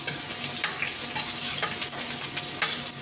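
Onion sautéing in a pan for Bisayan-style chicken adobo, a steady close sizzle with scraping stirring strokes and occasional utensil clinks against the pan.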